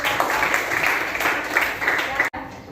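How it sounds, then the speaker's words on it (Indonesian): Students in a classroom clap together in a dense, even burst that stops abruptly near the end, followed by a quieter room. "Silakan berikan tepuk tangan untuk"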